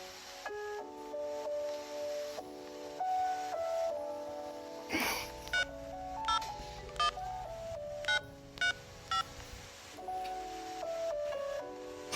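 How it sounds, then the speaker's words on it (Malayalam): A telephone keypad is dialed, producing a quick series of distinct beeping tones with short gaps between them, clear and close over light handling and rubbing noise. "ഫോൺ വിളിക്കാൻ"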